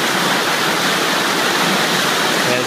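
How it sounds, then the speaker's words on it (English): Feed water pours from a top pipe into the gullet of a granular media filter during backwash, a loud, steady, close rushing roar like a waterfall that never lets up. "Here's our feed water coming in, pouring out of that top pipe, filling the gullet"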